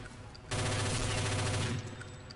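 Automatic gunfire in Counter-Strike Condition Zero Deleted Scenes, a dense burst of rapid shots starting abruptly and lasting about a second, loud and close, then fading into quieter room tone.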